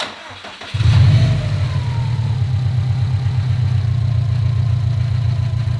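A rebuilt Subaru STI engine cranks briefly and catches, then settles into a loud, steady, lumpy idle that runs on with no voices.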